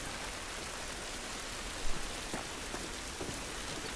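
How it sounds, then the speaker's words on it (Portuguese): Steady rain pours down across an outdoor scene in The Last of Us, a dense, even hiss with a few slightly louder drops and splashes standing out near the middle. "Essa chuva não vai nos ajudar."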